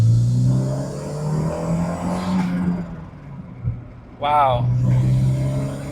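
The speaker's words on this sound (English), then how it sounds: "That is the best turbo noise" A Toyota MR2 turbo engine pulls hard in second gear with a loud, steady droning roar. It eases briefly partway through, then surges back strongly, and a voice exclaims once over it.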